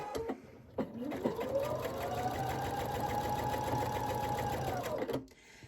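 A sewing machine fitted with a walking foot runs one steady, continuous burst of about five seconds while stitching a quilt-as-you-go seam, starting after a short clatter and stopping abruptly, close and clear.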